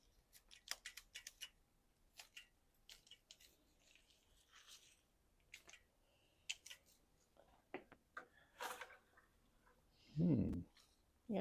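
Pruning shears snip back vines in a winter garden, giving a series of quiet, crisp clicks and cuts with rustling between them, close to the microphone, followed by a louder handling thump at the end.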